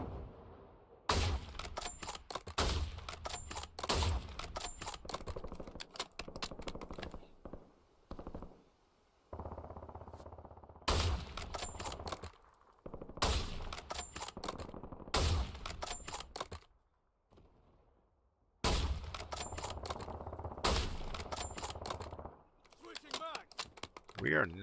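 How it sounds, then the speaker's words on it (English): Bursts of automatic gunfire in Warzone, several clusters of rapid shots separated by short quiet gaps, fairly loud over game ambience, with faint keyboard clicks between bursts. "We are not shooting very well, are we?"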